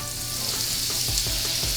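Butter and olive oil sizzle steadily in a pan as a loud, continuous hiss with faint clinks underneath, close and without talk.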